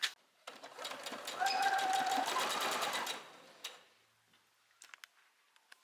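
Sewing machine stitching a seam on a top, a single close burst of rapid ticking stitches lasting about two and a half seconds, followed by quieter handling clicks and taps.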